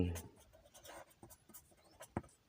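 A pen scratches numbers onto paper in short, faint strokes with small pauses between them, under quiet speech at the start.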